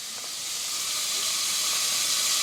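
Food melting in a hot frying pan for a fried PB&J sandwich sizzles with a steady, hissing crackle that grows slightly louder and stays up close, with no voices.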